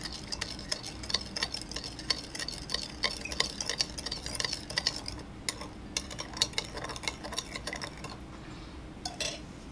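A utensil stirs fresh lime juice and sugar in a small bowl, giving quiet, rapid clinks and scrapes in an irregular ticking rhythm, close but faint, with no talking.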